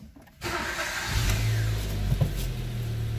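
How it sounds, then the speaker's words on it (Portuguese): A 2015 Ford Ka with a 1.5 Sigma engine, low on power and hard to start, cranks briefly and fires into a steady idle with a slight rev, close and loud, no voices. "Vamos dar partida no carro."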